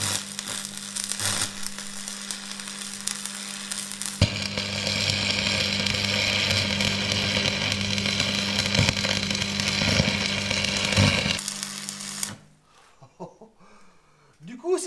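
Welding crackles and sizzles steadily at close range behind a welding mask for about twelve seconds, a constant buzzing hiss that stops abruptly, followed by a voice.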